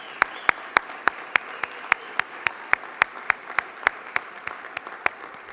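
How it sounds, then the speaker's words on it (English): A crowd at a Good Jobs, Green Jobs Midwest event claps in a rhythmic, evenly spaced beat, sharp regular hits over a softer bed of scattered applause. "give a round of applause to the great representation that this state"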